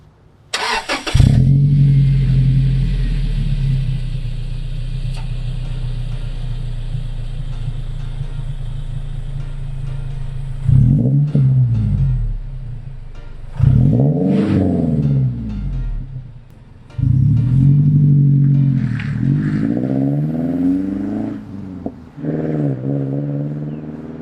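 A 2.7L Toyota Tacoma pickup with a 5-speed manual and Magnaflow muffler starts and idles with a deep exhaust rumble, then revs sharply several times, each blip rising and falling, loud and close.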